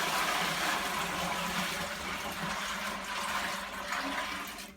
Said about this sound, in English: I guess the next step here is going to be to mash in for the protein rest.